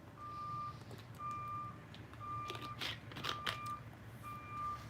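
A truck's reversing alarm beeps in an even repeating pattern as it backs in, moderately distant, with clanks and rattles in the middle.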